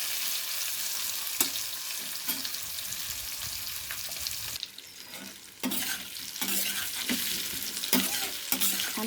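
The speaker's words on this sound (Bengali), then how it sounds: "ভেজে নেব ডিমগুলোকে।" Eggs frying in a pan for an egg masala curry, a steady close sizzle with intermittent scraping stirs and clinks of a utensil, briefly quieter midway before the frying noise picks back up.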